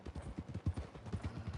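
Horse hooves clip-clop at a steady walking rhythm in Red Dead Redemption 2. The soft, close, evenly spaced beats continue with no voices over them.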